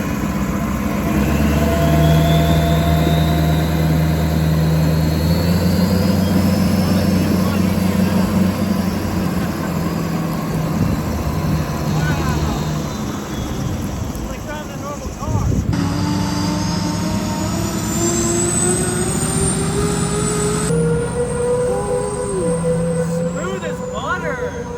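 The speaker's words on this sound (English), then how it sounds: "This will be the first official test drive on 2 transmissions." A massive custom truck with twin transmissions and no suspension drives on a test run, a loud, continuous engine roar with rising and falling whines as gears change, heavy rumbling throughout, and a voice speaking over it.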